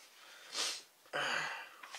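A person with a cold gives two short, close nasal sniffs, the second longer and more congested, with faint breathy sounds afterward in a quiet room.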